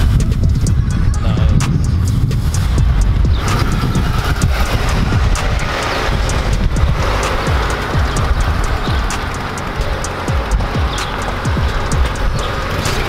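A Mazda Miata fitted with a Magnaflow catalytic converter drives along, its exhaust giving a loud, steady rumble with rough low-end texture and passing road noise, continuing throughout with no talk.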